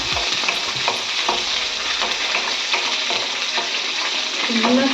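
Curry leaves fry in a pan, crackling with a continuous sizzle, punctuated by regular stirring scrapes and taps, close and alone without speech.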